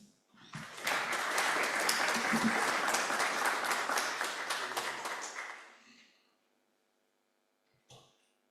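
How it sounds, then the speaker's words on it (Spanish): Applause from a forum audience for its panelists swells quickly, holds steady for about five seconds, then fades out, with a brief burst of sound just before the end. "nuevamente un aplauso a nuestros panelistas de este foro"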